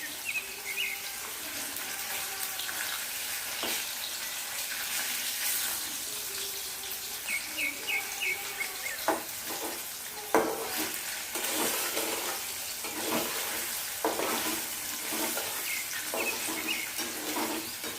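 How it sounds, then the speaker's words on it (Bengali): Paneer fries in a pan over a full flame on high heat, producing a constant rushing hiss, like running water, broken by occasional clinks and stirring knocks. "সবসময় ফুল ফ্লেমে গ্যাসটা রেখে হাই হিটে পনির ভাজতে হয়"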